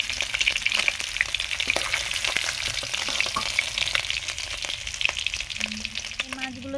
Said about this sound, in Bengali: আর বাকি মাছগুলো আছে এগুলো ভেজে নেব